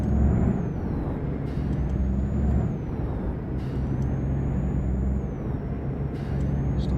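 Air brakes of a DAF 95 truck in the game Euro Truck Simulator 2, sharp hissing bursts releasing several times over a loud steady low diesel engine drone, close and without talk.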